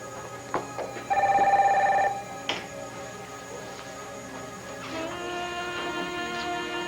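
A telephone rings in a quiet indoor room, a short bright electronic trill burst followed by softer tones, loud and close with no talk over it.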